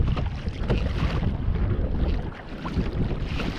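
Gusting wind buffets the microphone while a kayak is paddled on the Swan River during a tailor fishing trip, a rough low rumble with steady dips and swells, close and fairly loud, with no voices.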